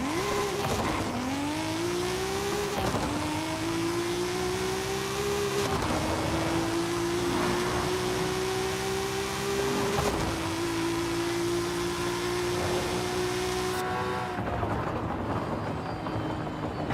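Racing car engine in Forza Horizon 5, driven with a Logitech G29 wheel and shifter, revving high and holding steady through long climbing pulls, with brief dips at each gear change and a sudden cutoff near the end.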